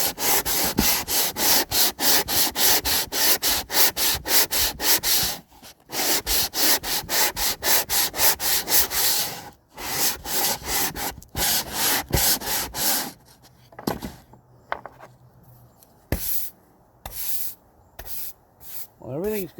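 A deck is sanded by hand with 60 grit sandpaper in fast, rhythmic scraping strokes, close and loud, slowing into scattered separate rubs toward the end.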